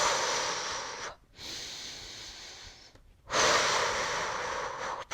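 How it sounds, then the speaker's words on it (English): Steady, audible breaths drawn in and pushed out during a Pilates magic circle workout, long airy inhales and exhales separated by brief pauses, close to the mic with no talking. "Inhale for 5. And exhale for 5."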